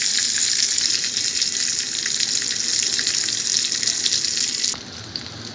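Eggplant pieces frying in a pan give a loud, steady hiss and sizzle close by, continuing unbroken until it suddenly softens near the end.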